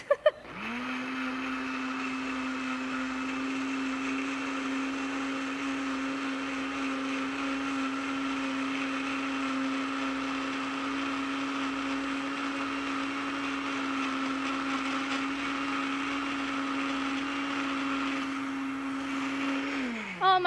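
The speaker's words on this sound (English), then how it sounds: "this is the cheap blender that was in the Airbnb. But it works." A cheap rental-apartment blender motor runs steadily for about twenty seconds with a constant whine, starting up and shutting off at the ends, loud and close.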